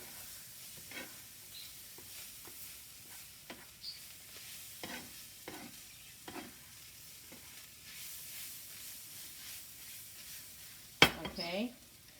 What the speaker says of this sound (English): now I take the spatula and mix it up with the ground beef